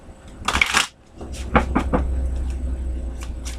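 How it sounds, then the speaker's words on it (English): A deck of cards is shuffled during a tarot reading, a brisk close riffle burst followed by softer card rustles over low room hum. "I just heard shuffle again."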